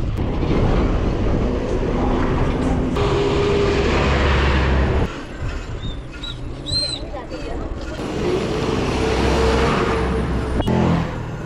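A car passes a cyclist on a road, a loud engine and tyre roar close by that swells and fades, with wind buffeting the rider and someone talking over it.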